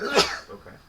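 A single short, explosive sneeze bursts out near the microphone, followed by a brief spoken word, during a tabletop dice game session.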